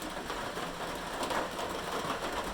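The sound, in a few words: rain beating on a metal roof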